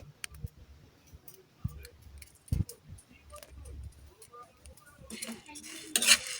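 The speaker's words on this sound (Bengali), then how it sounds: "এগুলো আবার ফুটে ঠাস ঠাস করে" Whole wheat grains dry-roast in a pan, giving scattered sharp pops and clicks, uneven and close, with stirring scrapes and a louder rattling burst near the end.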